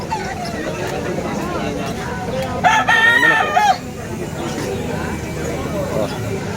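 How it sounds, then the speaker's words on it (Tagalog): A rooster crows once, loud and fairly close, rising over a busy crowd murmur and chatter that continues throughout at a weekend pet market in Hulo, Malabon. "Tayong manok oh."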